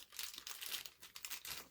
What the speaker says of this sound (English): So you just want to open your bag